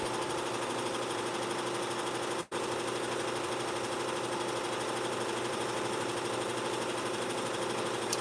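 A home embroidery machine stitches out a design with a continuous, even mechanical whirring hum at close range, broken by one brief dropout partway through.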